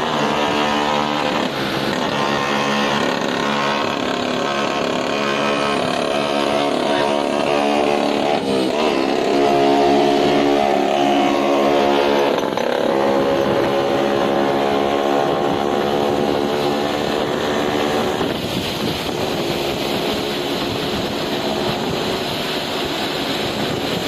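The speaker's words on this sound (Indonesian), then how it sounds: "mau road trip ke Bali kayaknya anak-anak itu, anak-anak Vespa" Vespa scooters ride past on a road trip toward Bali, their engines droning loudly and continuously, rising and falling as the bikes go by, with no talk.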